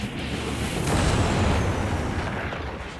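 A 30mm seven-barrel Gatling cannon on an aircraft fires a sustained burst at 3,900 rounds per minute, a dense, continuous roar that swells and then tapers over three seconds, with no voices.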